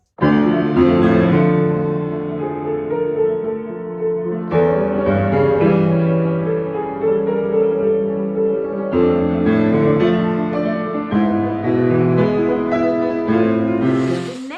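Piano triplets from Beethoven's Tempest Sonata, Op. 31 No. 2, roll continuously under heavy sustain pedal, notes blurring together into a loud, washed resonant wash, with no speech.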